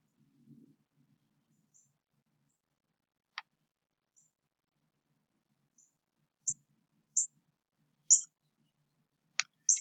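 Sparse computer mouse clicks in a quiet room while working in Excel, single sharp ticks spaced a second or so apart, with a few quicker clicks clustered toward the end.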